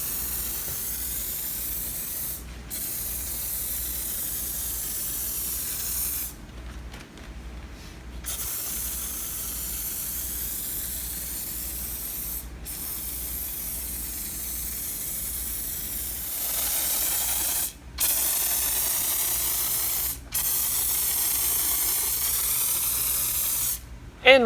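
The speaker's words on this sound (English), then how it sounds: "every one I demonstrate for you today sprays nice and even and consistently" Marolex sprayer releasing a steady, loud hissing spray in long sustained bursts, with short breaks where the trigger is released, fairly close and even throughout.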